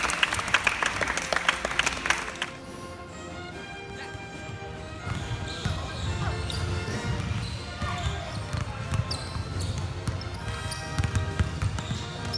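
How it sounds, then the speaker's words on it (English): Applause from an audience honouring a departing basketball player at an elite prospect academy event, a brief burst of clapping at the start before music with singing takes over. "I want you to give this guy a round of applause."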